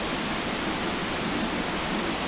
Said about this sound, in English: Oh, there's the waterfall.